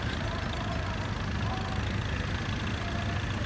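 A vintage tractor engine runs steadily in a parade at the Great Dorset Steam Fair, a low continuous rumble at moderate distance under a busy outdoor background, without any pause or change.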